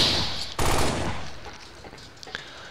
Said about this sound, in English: 45 caliber machine pistol, but dual wield